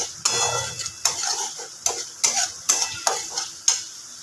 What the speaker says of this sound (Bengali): মশলাটা আমার এখানে খুব ভালোভাবে কিন্তু কষা হয়ে গেছে